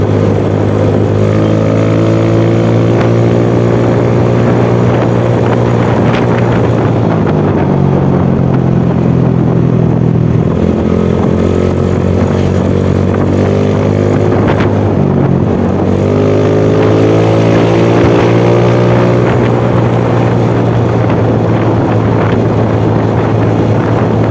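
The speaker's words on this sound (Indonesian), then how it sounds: "Ini dia coba teman-teman ya, coba ngegas sedikit agak kenceng." A motorcycle engine revs up hard, its pitch rising and falling through gear changes, with loud wind rush against the microphone throughout.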